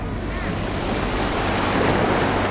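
Surf washes onto a white sand beach at Tanadewa on Flores, a continuous close roar of breaking waves mixed with gusty wind buffeting the microphone.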